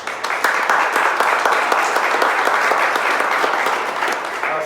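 Sustained audience applause fills an event hall: dense, even clapping from many people at moderate volume that holds steady from start to finish with no talk over it.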